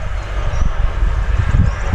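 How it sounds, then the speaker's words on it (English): A gold ore crusher machine grinds away in a valley below an African farming village, heard as a steady, distant broadband rumble mixed with wind-like noise and no voices. "that is the sound of the crusher. They are crushing the gold down there."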